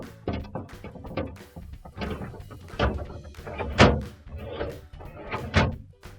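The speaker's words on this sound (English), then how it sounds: "Now we're going to put our crisper drawers back in." A Maytag refrigerator crisper drawer slides in along its wheeled track, making a series of rolling thunks and soft knocks at close range, with several louder bumps as the drawer seats into place.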